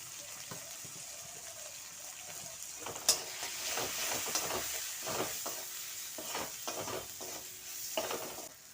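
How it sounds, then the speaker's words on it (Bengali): Spice masala with grated coconut frying in a pan for a pointed gourd dish, a quiet sizzle broken by repeated spatula scrapes and one sharp knock. "দিয়ে মশলাটা ভালোভাবে কষিয়ে নেব"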